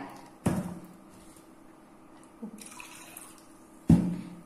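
Rinse water from a blender bowl is poured into a poppy-seed and mustard-oil mix in a few short, close splashes and trickles, with quiet pauses between.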